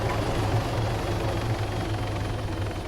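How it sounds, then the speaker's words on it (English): A helicopter in the Modern Warfare 3 video game thumps with a steady, loud rotor chop and engine drone, continuous and close throughout. "I'm coming here with a heli."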